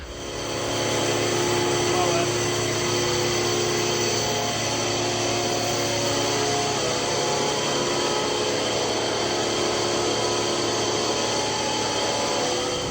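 A leaf blower and vacuum machine drone steadily outdoors, a loud, constant motor whine that holds for the whole stretch.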